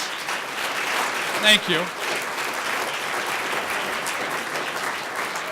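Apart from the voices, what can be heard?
audience applause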